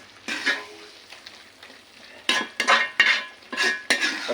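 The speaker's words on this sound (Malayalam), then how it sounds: "കുറച്ച് നേരം ഇങ്ങനെ ഇളക്കിയിട്ട് കൊടുക്കുക." Beef roast being stirred in a pan, a utensil scraping and clinking against the metal amid sizzling, in irregular bursts with quieter gaps, close and fairly loud.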